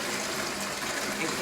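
Tap water gushes steadily into a pot, filling it for boiling pancit luglug noodles. It is a continuous, close rush with no pauses.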